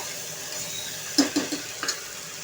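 Chopped tomato frying in a pan for a chana dal and ridge gourd curry, a soft steady sizzle broken by several close scraping stirs in the second half.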